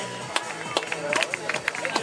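Spectators clap and murmur at a runner's finish in a FIDAL cross-country race at Onara di Tombolo, Padova, with scattered hand claps over a crowd babble of voices.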